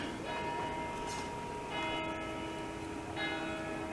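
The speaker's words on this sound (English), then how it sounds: "I just thought it's kind of weird that they rang the bell at like 6 p.m." A church bell rings on a snowy evening in the Hochelaga borough of Montreal, striking three times at a slow, even pace, each ringing tone hanging and fading under steady outdoor background noise.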